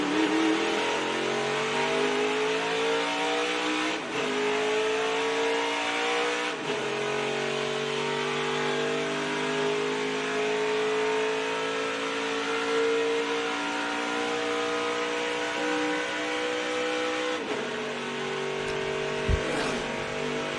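A NASCAR truck engine revs high and holds steady as it pulls away off pit road during qualifying at the 2022 NextEra Energy 250, a loud continuous roar with slight pitch dips and shifts and no talking.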